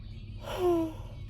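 A single human yawn, a short breathy rising and falling exhale lasting about half a second, close to the microphone against a quiet low hum.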